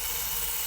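A drill whirs steadily while drilling out a screw on a Dell Inspiron 1720 laptop, a continuous close high-pitched whine with no pauses.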